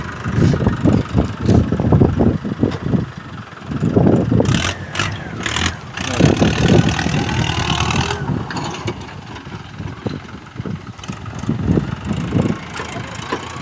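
A Mahindra Arjun 605 tractor engine running steadily at close range, a continuous rough mid-range drone with shifting load and bursts of rattling machinery around it while farm waste is cleared.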